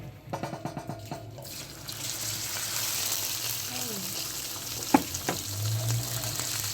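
Chicken sizzles in ghee for a bhindi gosht curry: a few utensil clinks at first, then a steady broad frying hiss with one sharp knock partway through, and faint speech in the background.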